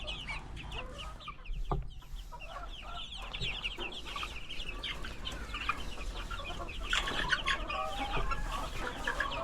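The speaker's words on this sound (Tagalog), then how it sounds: "malalaki na talaga yung aking mga lagang manok" Several fighting roosters cluck and chatter close by, a steady busy chorus of fowl with occasional louder squawks over low background noise.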